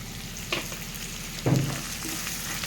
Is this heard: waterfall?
no